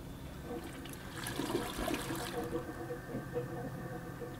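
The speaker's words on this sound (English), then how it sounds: "Toilet's draining, that's a good sign." Toilet draining aboard a sailboat, a continuous gurgling, sloshing rush of water that swells in the middle and keeps flowing steadily, close and moderately loud.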